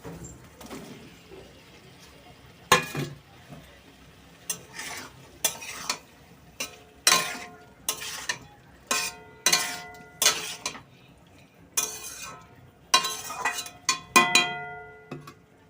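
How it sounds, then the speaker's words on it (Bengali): Young jackfruit is stirred and fried in a pan of cooked-down spiced masala: a metal spoon scrapes and clanks against the pan about a dozen times in an uneven rhythm, close, over a soft background sizzle. "মশলা কষা হয়ে গেছে, এবার দিয়ে দেবো ইঁচড়।"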